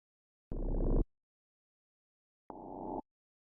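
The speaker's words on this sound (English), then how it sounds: "those little kind of like grinding, weird, textury sounds you hear in the track." Two short bursts of grinding, textured FM synth tone, each about half a second long, separated by silence.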